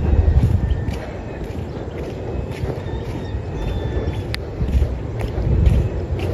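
A large fishing boat out on a calm sea, its engine and water noise rumbling steadily and fairly loud with wind buffeting the microphone throughout.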